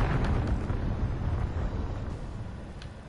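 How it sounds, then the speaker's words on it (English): Cruise missile explosion in Call of Duty Warzone, a deep rolling blast with a heavy low rumble that swells and slowly fades, heard alone without talk. "Enemy cruise missile."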